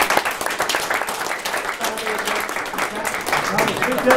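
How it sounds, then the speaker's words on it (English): A round of applause from the audience at a summer institute's final presentation, a steady patter of clapping hands with talk running over it throughout. "if everyone could get everyone a round of applause"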